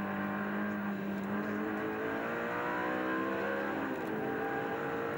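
The number 69 Ferrari GT race car at a French GT round at Nogaro sweeps past with a continuous engine drone, pitch rising and shifting through gears, loud against steady circuit noise.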